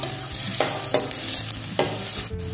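Vegetables being sautéed in a pan for a vermicelli pasta dinner, a steady sizzle with a few sharp scraping stirs of a spatula against the pan, close and without talk.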